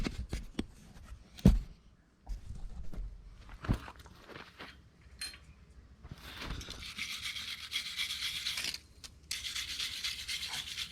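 Mower washers are scrubbed clean by hand, with scattered close rubbing and scraping strokes and a few sharp knocks, then steadier, louder bursts of brushing toward the end.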